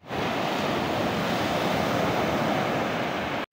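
Sea waves surge and break steadily on a quiet, remote beach, a continuous loud wash of surf with some wind rumble and no voices.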